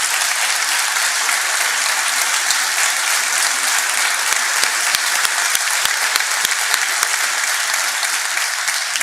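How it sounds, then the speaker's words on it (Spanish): An audience at a historical lecture applauding loudly and continuously, a dense, even wash of many hands clapping close by without any voices. "Por favor, otro fuerte aplauso para él,"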